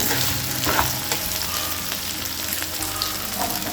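Taro root pieces are stirred and fried in a pan for chamadumpala pulusu, a dense close sizzle with a spoon scraping through the pieces and a low hum underneath, no voices.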